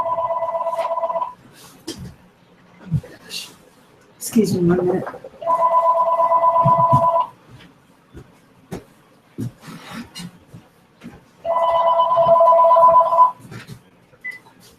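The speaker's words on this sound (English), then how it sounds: "my phone is ringing" A telephone rings in steady electronic bursts, three loud ring pulses with gaps between them, close by, while a person briefly talks between the rings.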